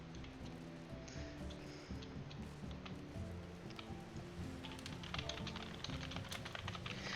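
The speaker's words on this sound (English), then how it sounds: "I don't know why I'm typing to CJ and FC" Quiet, steady typing on a computer keyboard during a relaxed online game stream, continuous soft key taps over a low game soundtrack.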